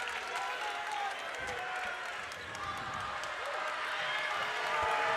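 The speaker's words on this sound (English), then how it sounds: "Well, the crowd is in it now." Spectators at a high school boys' basketball game between Medomak Valley and Gardiner, a dense, continuous wash of clapping and cheering filling the gym at a steady level.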